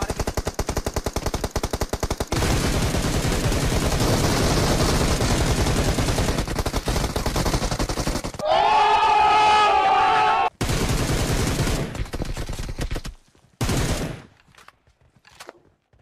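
Gunfire in the mobile game BGMI roars almost without pause as dense, loud automatic bursts. It cuts off abruptly near the end, leaving a few scattered shots and then quiet.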